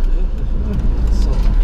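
A 1989 Toyota LiteAce Space Casual van with a manual gearbox rolls along a public road, its steady low engine rumble and road noise filling the cabin while a person talks over it.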